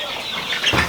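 Layer hens cluck and chatter on a poultry farm, a dense continuous flock sound close by with a louder burst of calls near the end.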